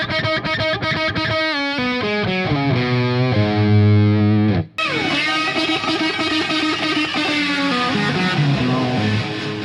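Distorted electric guitar plays an electric sitar part using a bend followed by double picking, with loud twangy rising notes, a brief cut midway, then a dense rapid run of picked notes, solo without talk.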